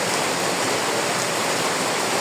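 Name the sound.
heavy rain in Madaripur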